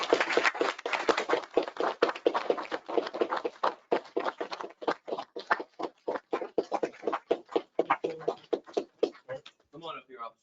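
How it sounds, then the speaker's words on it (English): Audience applauds a police officer at a town council meeting and candidate forum, a dense burst of clapping that thins into scattered claps toward the end as a voice speaks briefly. "join me in a round of applause for Officer Manick"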